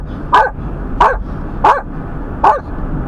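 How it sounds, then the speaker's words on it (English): A dog barks at a passing car on a snowy drive through Granite Falls, NC. Four loud, sharp barks come at an even pace, each about two-thirds of a second apart, over steady car road noise. "dog alert."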